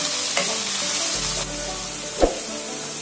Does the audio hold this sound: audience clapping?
no